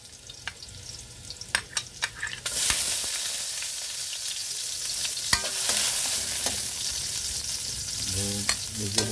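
Garlic sautés in hot oil for a chicken dish, with a steady close sizzle that swells louder partway through, punctuated by sharp scrapes and clinks of stirring.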